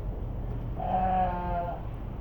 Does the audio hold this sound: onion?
no